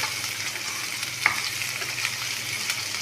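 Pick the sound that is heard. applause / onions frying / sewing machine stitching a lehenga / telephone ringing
onions frying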